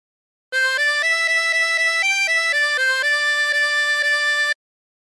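A chromatic harmonica plays a phrase of She'll Be Coming Round the Mountain as a quick run of short, clear notes stepping up and down, then a longer series of repeated notes, loud and close with no talk.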